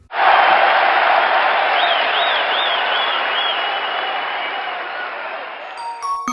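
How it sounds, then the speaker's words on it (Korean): Sustained applause and cheering from a large crowd as a sound effect closing a Korean talk show episode, loud and steady for several seconds before fading slightly at the end. "여기 저희 끝날 때도 박수 소리 넣어주세요"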